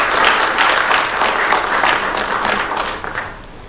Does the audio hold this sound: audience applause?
yes